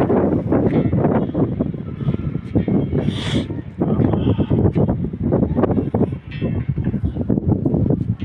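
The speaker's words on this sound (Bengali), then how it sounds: "ছাদের উপরে নর্মালি বাতাস" Wind blows hard across an open rooftop on a cloudy evening beside a pigeon coop, a loud, continuous buffeting rush with gusty swells and brief dips.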